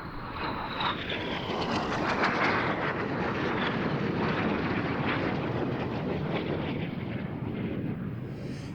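Red Arrows display jets performing the inverted, nose-down boomerang manoeuvre at an air show, a loud continuous jet roar that swells and sweeps with a descending whine, steady throughout with no talk.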